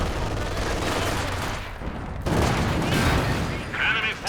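Artillery fire in Company of Heroes 2, with 152mm shells landing as a dense roll of booms and crackling blasts. It runs loud and continuous throughout, and a surge of impacts arrives around the midpoint.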